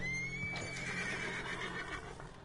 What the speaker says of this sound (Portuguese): Vamos capturar os cavalos.